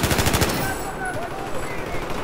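Rapid bursts of suppressed M249 machine gun fire in a Battlefield 4 match, a fast rattling volley at the start giving way to scattered shots and game noise, with some faint voice.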